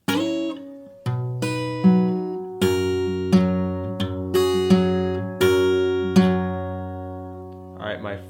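An acoustic guitar plays the next chorus section of a song in a particular performer's style. Seven or so ringing strummed chords come in an even rhythm, close and bright, ending with a faint shuffle and no singing.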